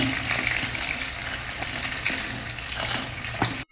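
Brinjals cooking in hot oil give a steady, dense sizzle that holds evenly throughout. A few faint clinks sound beneath it before it cuts off abruptly at the end.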